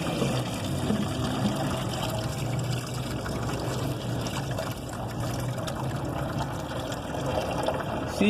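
Water draining from a loosened Suzuki car radiator, a continuous trickling, splashing flow held at a steady level throughout, close and alone.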